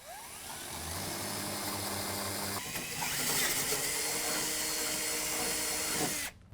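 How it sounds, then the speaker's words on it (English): A drill boring half-inch holes through a steel bumper bracket for a Road Armor Stealth rear bumper on a 2017 Ford F-150, giving a loud, steady mechanical whir and grinding whine that runs unbroken, then stops abruptly. "we're going to drill out this hole and this hole to a 1/2 inch"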